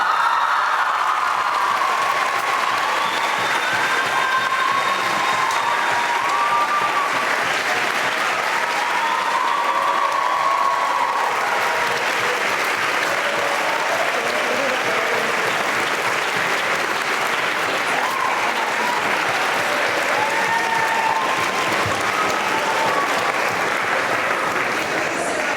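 At the 2016 Great Debate of the Oxford Royale Summer School, the audience gives a loud, sustained round of applause for the debate winner, with thick, even clapping lasting the whole stretch and some cheers rising above it.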